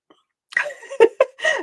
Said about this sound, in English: oh gosh, I'm going to sneeze again, sorry.